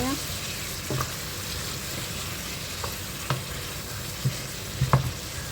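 Courgette and chicken sizzle steadily in a frying pan, seasoned with cayenne, while a spoon scrapes and stirs in a few distinct knocks; no talk, just the continuous close fry.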